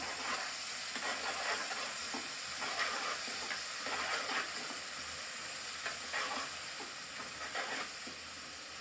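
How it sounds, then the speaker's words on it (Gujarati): Green chillies roast and sizzle in hot oil for a chutney, a steady close frying hiss with soft stirring scrapes recurring throughout, no voices. "આપણે તેલમાં સારી રીતે શેકાવા દઈએ થોડી વાર."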